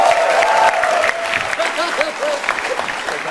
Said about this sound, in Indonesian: tepuk tangan meriah untuk Ica dan Denny